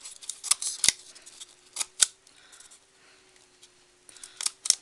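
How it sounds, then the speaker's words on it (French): Small scissors snipping notches into paper, a series of sharp crisp close cuts in irregular bursts with quiet gaps between, no talking. "vous prenez votre petit ciseau et vous faites des petites encoches"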